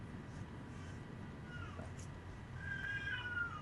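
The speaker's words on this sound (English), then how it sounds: "No, that's my cat." Cat meowing faintly in the background behind a quiet room hum, one soft call and then a longer, wavering meow near the end.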